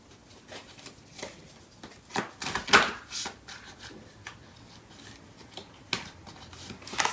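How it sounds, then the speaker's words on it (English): Tarot cards are pulled out and handled close by in a quiet room, making soft shuffling, rubbing and flicking sounds with a few sharper snaps. "So I'm going to pull out some cards."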